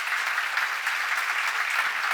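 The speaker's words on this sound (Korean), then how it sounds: "박수 한번 치세요" A church congregation claps together, a dense burst of applause that holds steady for about two seconds at a fairly close, full level.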